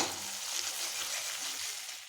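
Ginger sizzles in a hot pan during home cooking for guests. It gives a steady, close frying hiss throughout and fades slightly at the end, with no talking.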